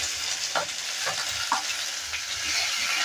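Chopped onion and garlic fry in a pan with a steady close sizzle while a spoon stirs them in a few soft scraping strokes, and no one speaks.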